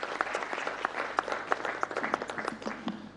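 A seated audience at a business breakfast meeting claps steadily for the senior minister, with loud, close, even applause throughout and no break.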